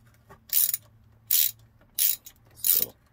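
Socket wrench ratcheting on the oil filter of a Sea-Doo boat during winterizing, four short, crisp ratchet bursts spaced about half a second apart, close and clear with no talk.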